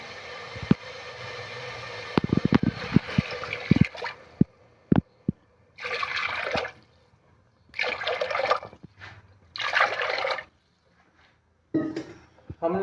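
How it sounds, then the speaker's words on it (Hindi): Water poured into a pot of cooked masala for peas pulao, heard as three separate gushing bursts of a second or so each, with clinks and taps of utensils before them and quiet gaps between. "हमने 4 गिलास पानी इसमें डाल दिया।"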